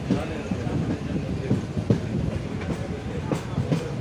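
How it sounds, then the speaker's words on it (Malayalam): A train pulls out of Perinad railway station on the Kollam–Kayamkulam line, its wheels clacking rhythmically over rail joints in a steady rumble heard from inside a carriage. "train Perinad railway station വിട്ടിരിക്കുന്നു"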